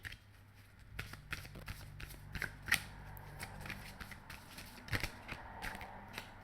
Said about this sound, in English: I will be pulling a Steampunk Lenormand card from the deck.